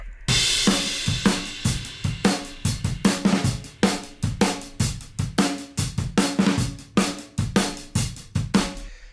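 A drum kit heard through overhead microphones playing a steady groove, with punchy kick and snare hits under bright, washing cymbals, full and close.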